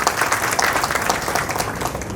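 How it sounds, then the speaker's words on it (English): Warm audience applause for guests at a school annual prize distribution ceremony, brisk dense clapping that swells early then holds steady, heard on its own without talk. "A big round of applause for both the guests."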